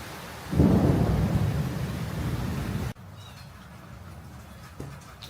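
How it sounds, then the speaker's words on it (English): Thunderstorm with lightning and rain: a loud rolling thunder rumble rises over steady rainfall, then fades to softer rain noise with a faint distant crack. "Lightning and rain was too much."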